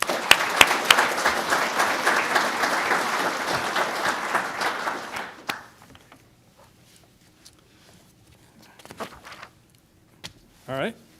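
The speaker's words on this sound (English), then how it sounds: "Let's give everybody a round of applause." Applause from a police promotions ceremony audience fills the first five seconds, dense and steady, then ends abruptly and leaves quiet room noise with a few scattered knocks and faint movement.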